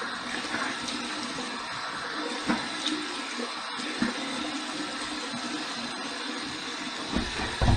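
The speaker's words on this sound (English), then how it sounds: "So I'm just trying to get some warm water here." Warm water runs steadily from a bathroom sink tap during a shave, a continuous close hiss and splash with a few brief knocks, no talking.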